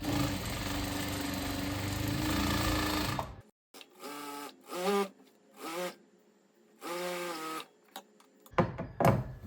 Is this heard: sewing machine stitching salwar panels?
yes